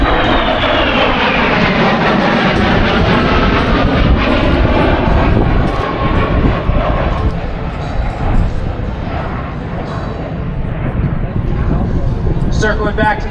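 A Harrier jet flown in a demonstration at an air show at MCAS Cherry Point gives a loud, continuous engine roar that sweeps in pitch as it slows, with an announcer talking over it throughout.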